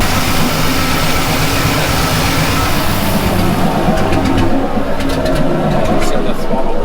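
A rebuilt Chevy Squarebody truck engine runs with a slight misfire, a loud rough low rumble with a faint uneven pulse, and speech partly present over it.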